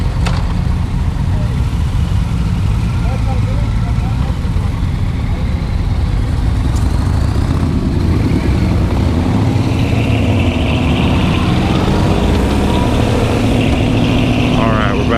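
A Yamaha MT-07 motorcycle engine runs steadily at a low idle throughout, a continuous loud rumble with a faint background hum, and no one speaks over it.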